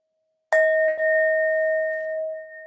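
A single struck bell rings out clear and loud after a moment of silence, its pure tone sustaining and slowly fading over about two seconds.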